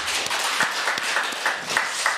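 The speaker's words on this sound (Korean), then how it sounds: "저희 다윗 성가대원 큰 박수 한번 하겠습니다" A church congregation applauds the choir at a Sunday service, a steady wash of many hands clapping at moderate loudness.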